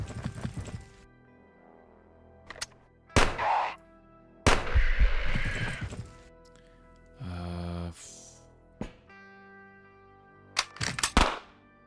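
SMG gunfire in the video game Quasimorph comes as a few separate sharp bursts and bangs spaced across the clip, interleaved with short game effect tones and quiet stretches.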